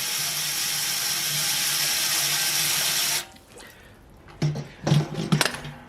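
Water pours steadily from a tap into a BrewZilla Gen4 brewing kettle, a loud continuous hiss that stops abruptly after about three seconds, followed by a few clanks and knocks.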